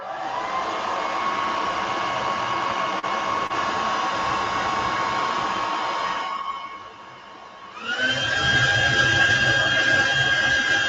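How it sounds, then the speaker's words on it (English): A hair dryer blowing on freshly painted miniature model paint, a loud continuous whine and rushing airflow close by, dipping briefly as the pitch shifts before resuming at a higher, steady tone. "I will again use the hair dryer to speed up the drying process."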